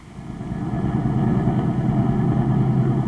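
A car engine runs steadily and loudly for the whole stretch, a low rumbling drone that builds slightly at the start as the vehicle pulls away, used as a radio drama sound effect.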